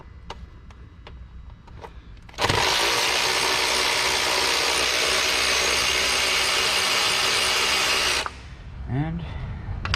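Power ratchet spinning a stubby socket on the lower starter bolt of a Hyundai Sonata, a loud continuous whirring burst of about six seconds between quieter workshop handling noises and clinks.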